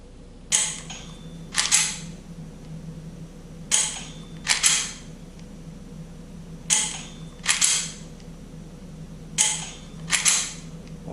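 Dry-fire shots from a G-Sight laser training pistol, heard as sharp mechanical clicks arriving in close pairs, roughly four or five pairs spread evenly, close and fairly loud over a low steady background hum.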